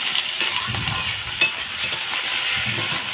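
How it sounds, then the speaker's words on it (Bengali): Mutton pieces hit a pan of fried potatoes and set off a constant close sizzle, with faint stirring scrapes and a small clatter partway through. No one speaks. "তো আমার আলুগুলো ভাজা হয়ে গেছে। এখন আমি মাংসগুলো দিয়ে দেবো।"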